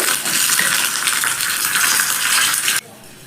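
A broken dried red chili, half a teaspoon of black mustard seeds and curry leaves fry together with a loud, dense crackling sizzle that cuts off abruptly just before the end.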